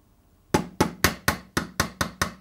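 A small hammer taps a metal wheel onto the axle of a Hornby Ringfield diesel model locomotive: about eight sharp, close, evenly spaced metallic knocks in quick succession after a brief quiet moment.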